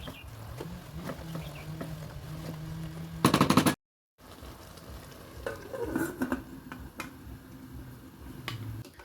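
Kale and collard greens cook in a pot with a steady low sizzle and bubbling hiss, broken by a short burst of louder clattering stirring and a brief gap of silence, then quieter stirring scrapes resume.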